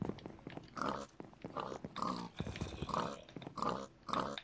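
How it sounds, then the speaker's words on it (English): A Minecraft pig gives a string of about seven short, rhythmic grunting oinks, quiet and evenly spaced, heard alone without talking. "Move, pig."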